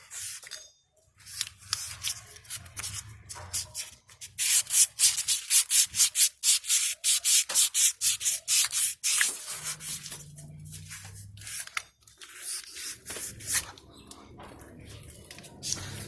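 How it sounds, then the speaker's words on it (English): Sanding an old wheel hub by hand with 400 grit sandpaper, close rhythmic scratchy strokes that speed into rapid back-and-forth rubbing, then slow again, with faint low background hum. "you'll want to get some sandpaper. I'm using 400 grit."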